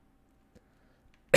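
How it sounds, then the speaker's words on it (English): A single abrupt cough bursts out loudly at the very end, after near silence, from a person playing the shooter game Apex Legends. "Let me just cough a little bit."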